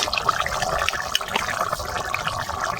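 A pot of curry seasoned with Kashmiri chilli boiling steadily, a constant bubbling, watery hiss that fills the whole stretch without pause.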